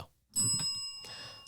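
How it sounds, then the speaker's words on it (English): A small desk bell, rung as a cussing bell during casual NFL Week 1 commentary, gives a couple of bright metallic dings that ring out and decay, sounding close at moderate volume with no talking. "Let me hit my cussing bell."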